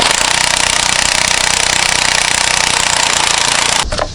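Loud, steady hammering rattle of an impact tool driving a weighted 19 mm socket on the crankshaft bolt of a Honda V6 during timing belt work, running continuously for nearly four seconds before cutting off abruptly.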